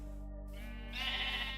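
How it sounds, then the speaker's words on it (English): A pink sheep in a video game bleats once, a drawn-out, wavering call that rises in strength partway through, heard clearly with no talking. "There's a pink sheep here."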